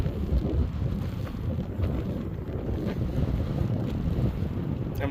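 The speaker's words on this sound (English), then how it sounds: "true to form for South Dakota, wind. Steady wind, so you have to deal with it" Steady South Dakota wind buffets the microphone with a loud, continuous low roar and gusty rumble, unbroken from start to finish with no talking.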